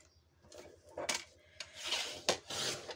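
Paper being cut for a scrapbook mini album, with a few separate quiet scraping and snipping passes, close up and with no one speaking.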